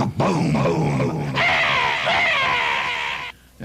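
A loud, harsh monstrous roar of Gamera with growling, crackling texture, mixed with electrical noise of a 30,000-volt transformer, sustained for a few seconds before cutting off abruptly.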